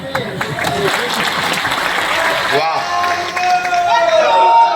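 A crowd at a political rally in Amravati claps in a dense, sustained wash of applause, mixed with a speaker's voice and a scattered exclamation.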